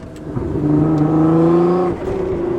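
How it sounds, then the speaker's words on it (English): A turbocharged car's engine rises into a whooshing, tonal rush that holds for about a second before a brief blow-off release and flutter, loud and close, alone without voices. "Now hearing the blow-off valves on this car, oh my gosh, that is so good"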